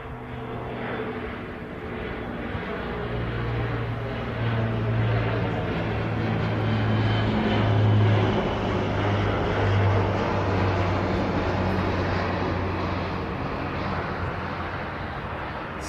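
A C-27 military transport aircraft arrives at the Royal International Air Tattoo 2022, its propeller engines giving a steady, droning hum with a clear tonal throb that swells a little mid-pass and stays fairly distant.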